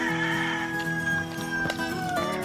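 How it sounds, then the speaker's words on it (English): Chickens on a homestead clucking and calling near by, a continuous mix of overlapping hen clucks and squawks over a couple of seconds. "The chickens don't know what to do."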